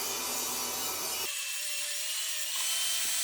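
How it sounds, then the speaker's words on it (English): Scrap plywood being sawn into strips, a steady rasping cut that stops about a third of the way in, leaving faint room noise and a thin lingering tone. "I grabbed some scrap plywood and I'm just cutting it into strips."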